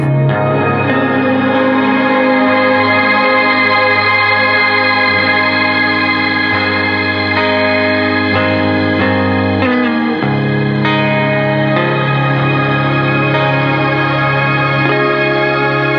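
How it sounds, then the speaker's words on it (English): Dense, sustained guitar chords washed in shimmering, pitch-bright reverb with trailing delay repeats, loud and continuous with no voices. "You can really hear those shimmery reverbs wanting to jump out."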